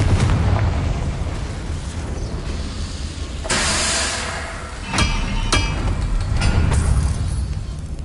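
Confringo fire spell blasts in the wizarding game Hogwarts Legacy, a loud dense rumble with several sharp booming impacts spread across the stretch, close and continuous.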